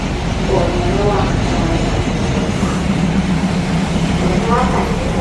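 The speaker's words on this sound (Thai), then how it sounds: "อีกสักครู่จะขบวนรถเข้าสู่สถานีมหาชัย" Train pulling into Mahachai railway station, a steady rumbling roll with faint clatter filling the whole stretch, while a voice speaks over it.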